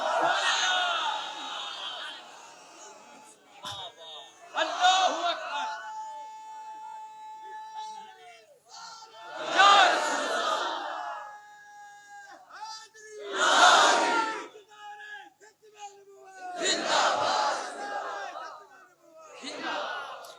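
A crowd chants religious slogans in bursts, a leader's call answered by many voices in loud surging waves, with quieter gaps and a lone voice between each chant.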